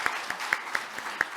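Audience applause at a Korean presidential campaign speech on disability policy, heard as a thin, steady patter of clapping from a small crowd, fairly faint and close.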